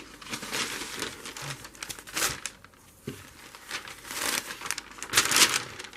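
Paper crumpled and crinkled by hand at a craft table, in irregular close-up bursts of rustling with quiet pauses between.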